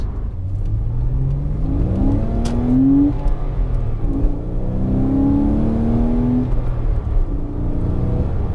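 Porsche Boxster 987.2 with a 2.9 engine accelerating through the gears, the engine note climbing in rising sweeps with brief dips at each shift, loud and close from inside the car.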